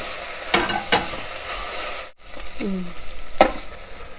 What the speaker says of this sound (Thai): แม่ว่าเราจะใส่บะเขือเทศลงไปนะคะ